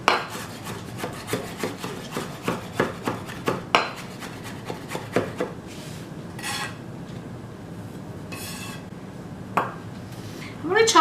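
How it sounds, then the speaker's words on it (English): A knife chops fresh herbs finely on a board, a quick run of rhythmic close taps at first, then sparser cuts and scraping, with a person talking faintly in between. "I'm going to chop these pretty finely"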